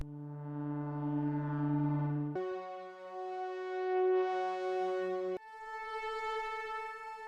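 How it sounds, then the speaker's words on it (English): Sustained synthesizer pads holding a major chord, changing voicing twice in smooth, glassy layers with no other sounds. "These are all the pads individually."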